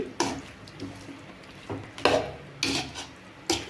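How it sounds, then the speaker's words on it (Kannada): A spoon scrapes and clinks against a pan while chicken is stirred and mixed with garam masala, giving a few irregular close knocks over a soft sizzling background, with no talking. "ಒಂದ್ಸಲ ಮಿಕ್ಸ್ ಮಾಡ್ಕೋಬೇಕು. ಚೆನ್ನಾಗಿ ಮಿಕ್ಸ್ ಮಾಡ್ಕೊಳ್ಳಿ."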